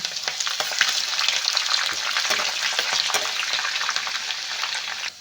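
A crushed bulb of garlic and six cut green chillies sizzle vigorously in hot oil in a pan. The crackle is loud, close and continuous, with stirring scrapes and no talk.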